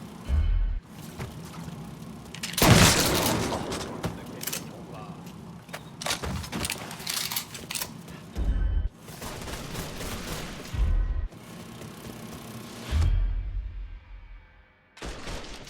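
Gunfire in Mafia III on PS4: several loud bursts of shots with thuds and mechanical clatter, spread across the stretch between quieter gaps, with game ambience underneath.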